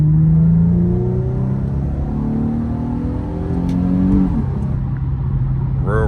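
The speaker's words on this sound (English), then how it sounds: "So this is my third gear pull right here." Infiniti G37 fitted with Stillen longtube intakes pulls hard in third gear, its close, loud engine note climbing steadily in pitch and then easing off near the end, with no voices over it.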